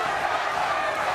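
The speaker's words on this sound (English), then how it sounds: "the crowd is saying, Kevin, Kevin" Large boxing arena crowd chanting the fighter's name, Kevin, late in the fight, a dense continuous roar of many voices with no clear individual words standing out.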